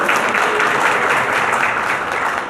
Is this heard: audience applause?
yes